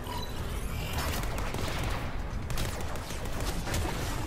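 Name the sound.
gunfire in the Warframe video game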